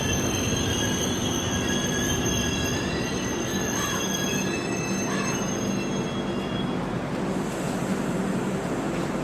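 Island Express train rolling into Changanassery railway station on platform three, wheels squealing in long, high, sustained tones over a constant loud rumble of the carriages, with no talking.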